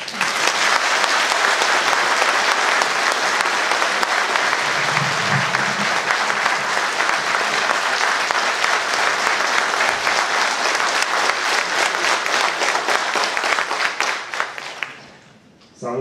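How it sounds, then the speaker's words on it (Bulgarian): Sustained loud applause from a large crowd at a GERB political rally in Bulgaria, dense continuous clapping that holds for many seconds before fading out near the end. "От всичките ръкопляскания изпитах истинско удоволствие"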